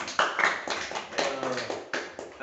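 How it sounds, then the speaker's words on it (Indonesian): Students in a classroom clap their hands in a few short, uneven bursts of rhythmic patting, mixed with a teacher's voice and some chatter. "Tepuk tangan semua yuk."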